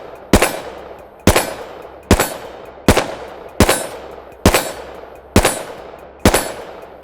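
A Desert Eagle pistol firing MagTech 158 grain flat nose rounds, eight loud sharp shots about a second apart, each with a ringing decay outdoors.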